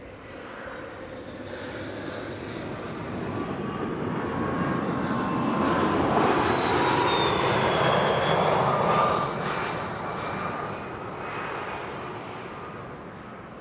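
A KLM airliner arriving at Amsterdam Schiphol from Humberside passes overhead, its engine roar swelling from moderate to loud and then easing off as it goes by, with a faint whine above the rumble.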